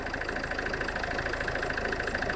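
A car engine idling steadily after being started during a battery charging test with a Topdon BT200 tester, a continuous even mechanical hum with a faint rhythmic pulse, close and alone.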